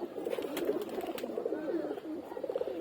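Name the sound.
pigeons cooing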